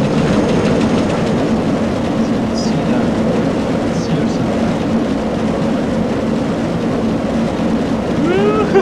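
A roller coaster train from the RollerCoaster Tycoon 3 game rolls along the track with a steady rumbling clatter that lasts throughout, loud and close, with people talking faintly beneath it.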